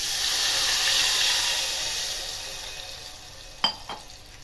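Water poured into a hot pan of cumin and asafoetida for rice-flour khichu gives a loud, steady sizzling hiss that slowly fades toward a quieter simmer, ending with two short clinks; no one speaks.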